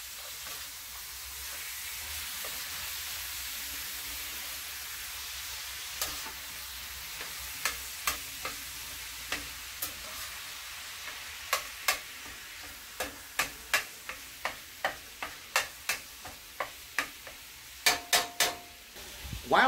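Ground meat fries in a pan with a steady broadband sizzle, joined by a series of sharp spatula scrapes and clacks that grow louder and more frequent toward the end, close by with no voices.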